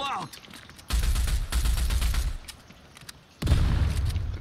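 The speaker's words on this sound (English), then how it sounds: "The grenades take so long to explode like that." Grenade blasts and rattling gunfire erupt in the Rogue Company shooter, loud low booms arriving in two bursts with a quieter gap between them and a voice speaking in the background.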